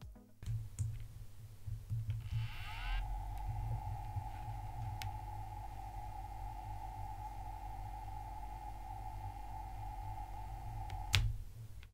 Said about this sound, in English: we first start with the pump noise, which is recorded with the microphone at around 5 cm away from the CPU block